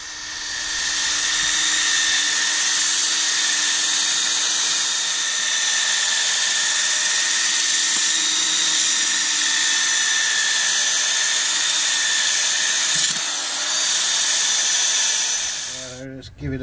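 A battery-powered sander grinds against a small turned beech bowl in a long, continuous high whine with a slight wavering pitch, loud and close, winding down at the end.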